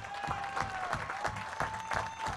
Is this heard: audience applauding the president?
yes